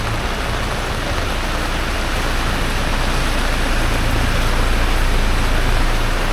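Heavy rain, the year's heaviest, pours in a dense, loud, unbroken hiss with no voices, close and steady throughout.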